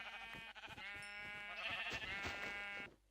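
Sheep bleating in the Minecraft video game, a harmonic bleat that wavers and rises for about three seconds over faint game background noise before cutting off.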